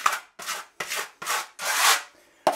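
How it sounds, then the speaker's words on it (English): Liquid waterproofing membrane is smoothed over a small divot in a tile shower with six rhythmic scraping, rubbing strokes, each separated by brief pauses and heard close up without talking. "I'm just going to fill in this little divot maybe right here, just kind of smooth it out a little bit."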